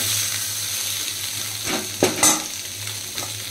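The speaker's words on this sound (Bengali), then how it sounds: "আমার সয়াবিন ভাজাটা কমপ্লিট হয়ে গেছে। তো এখন আমি সয়াবিনটাকে তুলে নিচ্ছি একটা" Fried soybean chunks sizzle in hot oil in a wok as they are lifted out, a steady close hiss with a low hum and a few scraping, clattering touches of the spoon.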